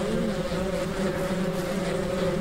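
A steady, droning insect buzz of bees in Ranch Simulator, continuous and fairly loud with a constant hum and no talk.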